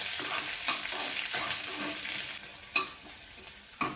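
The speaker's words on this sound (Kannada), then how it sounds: "ಇವಾಗ ಈರುಳ್ಳಿನೂ ಚೆನ್ನಾಗಿ ಫ್ರೈ ಆಗಿದೆ" Chopped onions frying in a pan while being stirred: a steady, loud sizzle with repeated scraping strokes of a utensil against the pan, close and without speech.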